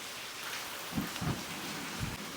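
Steady rain falls outdoors in Kentucky, a broad even hiss of drops across the whole stretch, with a few low dull thumps breaking through near the middle and end.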